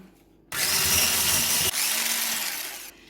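An electric mixer whips cream for a strawberry meringue roll, a steady loud whirring drone that starts abruptly, dips briefly mid-run, then continues before cutting off.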